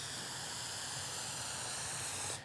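Contact adhesive sprays evenly across a router table top in one continuous, fairly faint hiss that stops sharply at the end.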